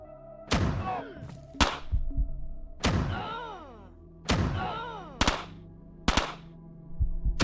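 A shotgun in the game Quasimorph fires about seven heavy, sharp blasts at irregular intervals, each one close and loud with a short thudding tail.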